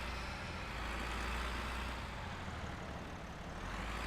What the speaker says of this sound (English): It just sounds like a tractor,